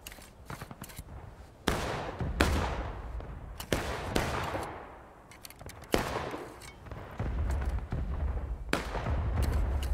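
Musket volleys and scattered rifle shots crack and boom across a Civil War battlefield in the multiplayer game War of Rights, several loud near reports with rolling echoes, irregularly spaced, some overlapping into ragged fusillades.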